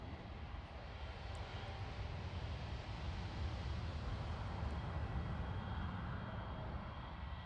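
A jet airliner with Messier-Dowty tricycle landing gear comes in to land at the Farnborough International Airshow, a steady, broad engine roar that holds an even loudness throughout, with no talking.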